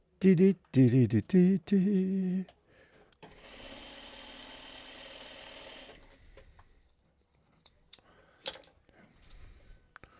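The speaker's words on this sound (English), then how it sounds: "let me sew these 2 pieces" Two fabric pieces go through a sewing machine in a steady whirring run lasting a few seconds. It comes after a burst of loud talking, with faint clicks and handling noises later on.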